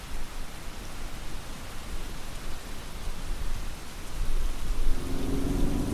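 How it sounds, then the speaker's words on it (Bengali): Heavy rain pours steadily in a cartoon ghost story, a dense even hiss, with a deep rumble of thunder swelling near the end, no voices. "বাইরে তখন বৃষ্টি তুমুল তাণ্ডব চালাচ্ছে।"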